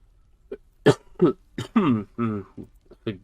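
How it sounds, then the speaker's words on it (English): Several short, harsh coughs and throat clears come in quick bursts, close and fairly loud, with brief pauses between them. "I'm just going to be coughing the entire time."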